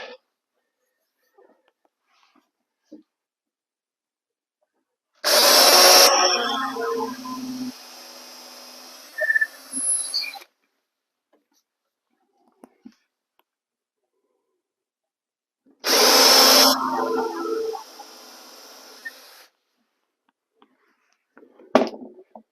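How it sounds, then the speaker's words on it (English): A drill countersinks and drives screws while an interior door is installed, heard as two separate high-pitched whirring bursts of a few seconds each, close up, with near-silence between them. "I'm going to countersink and put a couple of screws in there."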